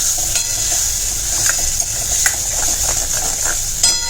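Steady sizzling in a pan as water is added to cowpeas, a broad hiss and scattered crackles, a few sharper pops near the end, no voices.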